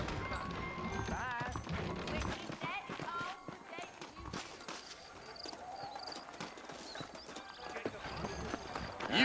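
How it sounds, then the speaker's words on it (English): Horses clip-clop at a steady gait in the Western game Red Dead Redemption, set around New Orleans, mixed with voices talking and a busy game soundscape. "I got the horses saddled up and ready out front."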